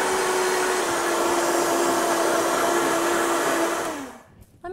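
A kitchen blender whirls an almond butter dipping sauce with fresh minced ginger, a steady loud motor whine lasting about four seconds before spinning down and stopping.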